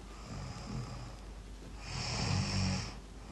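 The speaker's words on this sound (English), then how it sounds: "the snoring, the heavy breathing, again." A person snores with heavy, rasping breaths, one long snore building and fading before a louder second snore rises near the end, close and steady with no talking.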